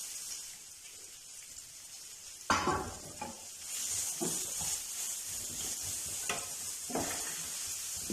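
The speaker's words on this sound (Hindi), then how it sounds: "प्याज को हमने सौते करना है" Chopped onion for a potato samosa filling sautéing in hot oil: a quiet hiss jumps to a loud sizzle as the onion goes in, then stirring scrapes over steady frying, close by.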